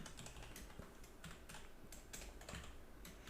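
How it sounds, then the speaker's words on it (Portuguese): Mechanical keyboard clacking in a steady run of quick keystrokes during a JavaScript coding session, close and fairly quiet, with no voices. "Comprei aqueles teclados mecânicos lá."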